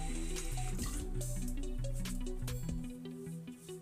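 Water running from a tap into a sink while a face is washed with a scrub, a soft continuous trickle with small splashes and drips that thins out toward the end.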